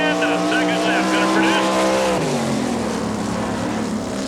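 A sprint car roars along the back straightaway of a dirt oval in Woodstock, Georgia, its engine howling and sweeping in pitch as it passes, with an announcer talking over it.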